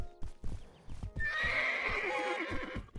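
A horse in the video game Animal Shelter Simulator gives a long, loud whinny that rises and trails off, following a few soft hoof clops, with no talk over it.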